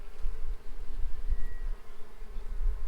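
Honey bees in an opened hive during an inspection hum in a steady, dense buzz close to the microphone, with low rumbling handling noise underneath and no voices.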